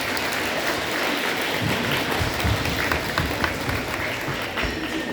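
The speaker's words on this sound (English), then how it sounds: "Give a round of applause" Applause from a school audience of families and friends at a fifth-grade band concert, a steady, dense wash of clapping filling the room for several seconds.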